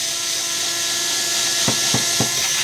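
An electric screwdriver drives Phillips screws out of a Minisforum HX90 mini PC, giving a steady whirring hum followed by three short, evenly spaced clicks or ratchets close by, with no talking.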